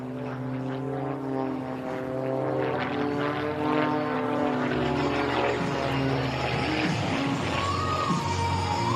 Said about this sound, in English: follow Melissa's airplane as it gets low